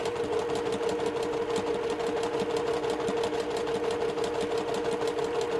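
Sewing machine chain piecing quilt blocks, a loud, close, steady motor whir with rapid needle rhythm running throughout without pause or talk.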